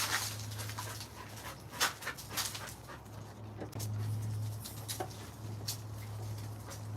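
A dog pants close by in quick, steady breaths that run throughout, with faint soft patters mixed in and a low electrical hum underneath.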